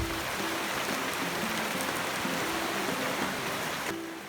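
Rain falls steadily on a rainy day at a traditional family home, a dense, even wash of drops on surfaces that holds constant before easing slightly at the end, with no voices.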